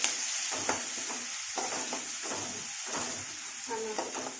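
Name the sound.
green chillies frying in hot oil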